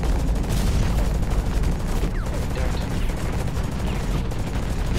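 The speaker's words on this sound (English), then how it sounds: "Shooting at me." Dense, continuous automatic gunfire from the mech shooter Hawken rattles loudly for the whole stretch, mixed with booming impacts and heavy game noise.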